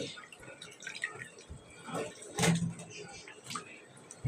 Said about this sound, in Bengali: এখানে কিন্তু লাল শাকগুলোকে আমি ধুয়ে নিচ্ছি